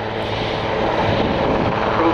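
A military helicopter flying at the RIAT 2015 air display gives a loud, continuous rotor and engine roar, with an announcer talking over it.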